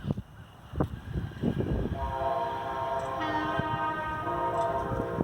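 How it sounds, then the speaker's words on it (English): An approaching train sounds a long, loud chorded horn that holds steady for several seconds over the rumble of rail cars passing close by. "That horn sounds so much like an SD-78s."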